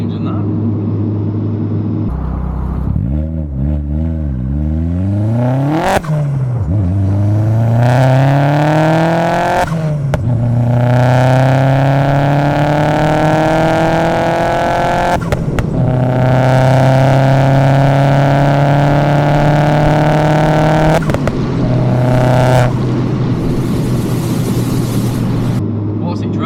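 A Vauxhall Zafira GSI accelerates through the gears, its exhaust note rising and dropping with small pops at each gear change, heard loud from inside the car while people talk over it.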